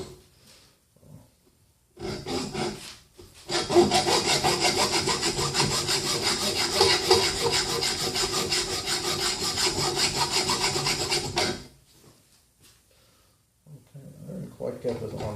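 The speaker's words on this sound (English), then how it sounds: "these 3 bolts, if I cut them across" Hacksaw cutting across bolts: after a couple of brief scrapes, a long run of fast, rhythmic rasping strokes goes on for about eight seconds, close and loud, then stops, with faint handling afterward.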